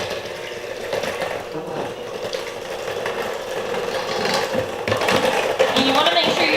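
An electric mixer running on low blends milk and pudding mix for a no-bake dirt cake, a steady motorized whir with wet churning that grows slightly louder toward the end; no talk.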